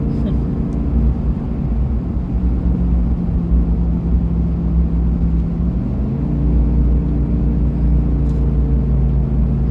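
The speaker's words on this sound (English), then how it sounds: "Driving a Dodge Ram with this Hemi in it. Thing doesn't pull worth a crap." A Dodge Ram pickup with a Hemi engine cruising on a mountain road, a loud continuous low drone and rumble from the cab with a steady engine hum shifting pitch slightly midway, no talking.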